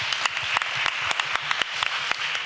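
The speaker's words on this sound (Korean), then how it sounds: "찬양팀 앞으로 모실 때 큰 박수 부탁드리겠습니다." Scattered, fairly sparse hand clapping rings out in a church hall at a combined youth and college worship service, individual claps distinct and close, with little else underneath.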